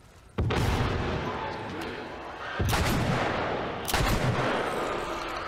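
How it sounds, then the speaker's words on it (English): Explosions from Molotovs and nail bombs in The Last of Us video game: three loud, sudden blasts about a second and a half apart, each trailing off into crackling roar. "we're using three Molotovs, three nail bombs that I guess that actually killed everyone"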